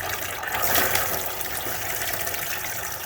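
Water and air rushing through newly reconnected domestic hot water pipes as a plumber purges them, a steady close hiss and gurgle with no gas yet on the hot-water-only system.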